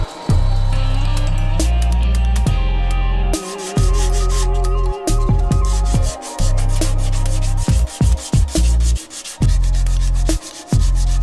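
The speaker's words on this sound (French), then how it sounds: "puis je vais commencer le ponçage" Abrasive paper rubbing against a spinning wooden eccentric pepper mill on a lathe, a steady loud motor hum broken by repeated short scraping strokes and brief pauses, with no talking.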